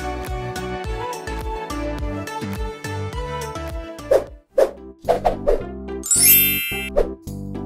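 A notification bell rings out as bright dings and tinkling chimes over an upbeat musical jingle, several sharp strikes close together followed by a shimmering high chime.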